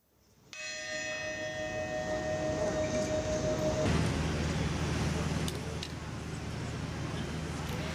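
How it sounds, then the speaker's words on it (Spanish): The new bells of Notre Dame Cathedral ring out with a sustained, resonant chime that hums for a few seconds before giving way to a steady mechanical rumble, with people talking underneath. "estas campanas que acaban de escuchar sustituyen a las que fueron silenciadas por el incendio"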